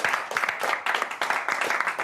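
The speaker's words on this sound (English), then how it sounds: "Give her a round of applause." A studio audience applauds at a Hisense prize giveaway, a brief burst of steady, fairly close clapping from several people.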